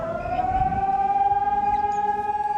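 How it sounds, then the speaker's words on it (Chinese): A civil defense air raid siren sounds during a drill in Taipei, Taiwan: one loud, sustained wailing tone that holds steady throughout with a slight pulsing waver, heard alone. "警报声响起"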